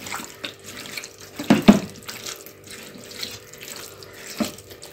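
Water splashes and runs into a cooking pot of chicken curry in short uneven bursts, close by, with a couple of louder gushes partway through.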